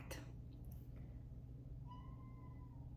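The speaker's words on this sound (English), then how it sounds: "That is my cat." A house cat meows in a quiet room, a short rising-falling call near the end over a low steady background hum, with a faint clatter at the start.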